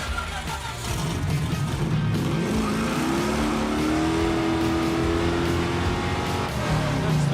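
A 1967 Pontiac Firebird engine revving hard, a loud, continuous roar that climbs steadily in pitch and holds near the top for several seconds, with no talk over it.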